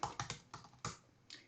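Keystrokes on a computer keyboard as a git command is typed into a terminal, a quick irregular run of about six close, crisp clicks with short pauses between them.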